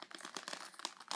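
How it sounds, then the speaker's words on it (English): Plastic toy packaging for Littlest Pet Shop Teensies is being pried and torn open, giving a close, rapid run of crinkles and crackles over about a second with no voices. "Crap, I'm gonna have to cut the plastic."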